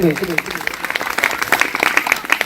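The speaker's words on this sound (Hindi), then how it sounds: "एक बार 2 ताली हमारे मानस मंच में" Applause at a devotional Ram Katha gathering, a crowd clapping briskly and loudly, with a voice heard briefly at the start.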